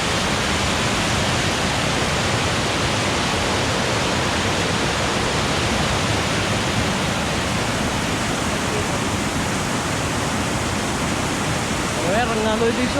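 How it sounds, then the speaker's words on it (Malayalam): Marmala waterfall on a forest route, a continuous roaring rush of heavy flowing water that fills the whole clip at a loud, even level, with a faint voice briefly surfacing near the end. "വെള്ളച്ചാട്ടം ഒരു രക്ഷയില്ലട്ടാ അടിപൊളി വെള്ളച്ചാട്ടം"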